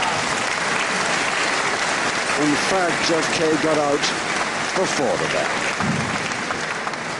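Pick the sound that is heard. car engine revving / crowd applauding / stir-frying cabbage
crowd applauding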